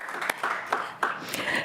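Scattered handclaps at an Allegheny County Council regular meeting: a handful of separate claps spaced across a short stretch, thin and modest in a large room rather than a full ovation.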